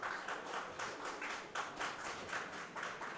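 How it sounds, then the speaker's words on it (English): Audience at a tournament main final clapping in steady rhythmic unison, a moderately distant crowd keeping a regular beat without talk over it. "We got some clapping going on for Daniel Roan."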